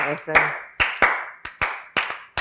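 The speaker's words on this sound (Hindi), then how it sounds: "ये आपकी अनोइंग क्लैप है" Sharp hand claps ring out one after another in an uneven rhythm, close and fairly loud, after a short vocal sound at the start.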